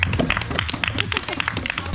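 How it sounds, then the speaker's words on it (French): A group of friends clap together during a homemade Koh-Lanta-style outdoor game, a quick, dense burst of close, uneven claps that keeps going steadily with no clear talk over it. "On l'applaudit quand même."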